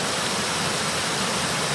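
Mount Airy Creek Falls pours as a steady, dense rush of broadband water noise, heard from a short distance through overgrown brush, with no voices.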